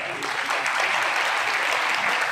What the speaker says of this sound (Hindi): जोरदार तालियां हमारे माननीय राष्ट्रीय अध्यक्ष जी के इसलिए, जोरदार तालियां।